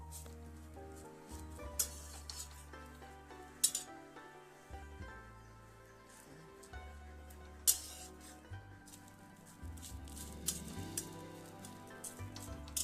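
Pitha fry in a wok with a soft, steady sizzle, punctuated by occasional metallic clinks and scrapes of a utensil as the cakes are turned.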